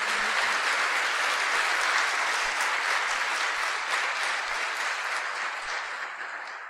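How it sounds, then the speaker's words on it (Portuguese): A church congregation gives a sustained round of applause during an evening Mass, dense, steady clapping from a large crowd with no talking, tapering slightly toward the end. "Vamos dar uma salva de palmas para Ele, minha gente."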